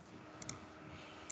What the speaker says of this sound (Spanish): Al dar un clic acá